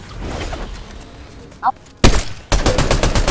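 Bursts of Fortnite gunfire: a faint thud first, then two loud broadband volleys of rapid shots, the second a sustained stream, with muffled game sound beneath.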